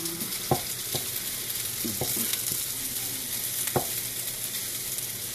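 A spoon cuts cooked turkey sausages in a hot pan, with scattered scraping and clicking taps against the pan over a steady, close sizzle.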